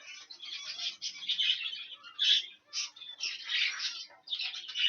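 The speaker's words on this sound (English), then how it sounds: "So here is this light green cockbird." A young light green cock bird, about four months old, sitting in a breeding cage and giving continuous scratchy chattering and squawky calls in close, uneven bursts with brief gaps.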